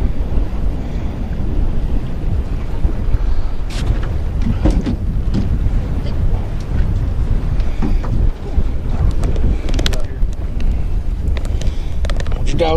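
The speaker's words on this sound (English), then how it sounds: "It's starting to get windy out here." Gusting wind buffets the microphone on a fishing boat out on open water during a catfish trip, a steady low rumble with lapping waves and occasional faint knocks throughout.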